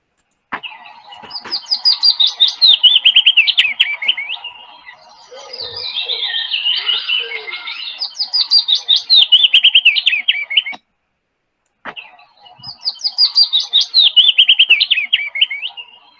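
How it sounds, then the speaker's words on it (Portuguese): A songbird sings, heard as a played recording: loud, clear bursts of rapid, repeated high trills separated by short pauses, with a faint steady hum underneath. "Um pássaro que a gente vai chamar ele de pássaro cantor"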